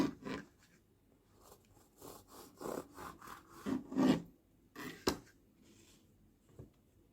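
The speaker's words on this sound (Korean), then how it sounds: "한 개 한 개 단면을 잘라 볼게요" Knife sawing through baked choux pastry shells one by one, a series of close, dry crackly rasping strokes with short pauses between cuts, fairly quiet, with no talking.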